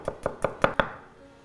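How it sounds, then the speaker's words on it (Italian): Garlic sliced on a cutting board with five quick, evenly spaced knife taps, close and crisp, then quiet. "affetto l'aglio"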